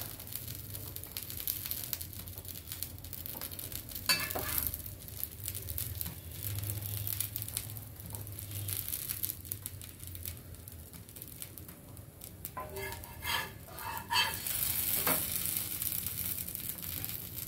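Masala bread toast frying on a pan, a soft continuous sizzle with occasional scraping and clinking of a utensil against the pan, fairly quiet.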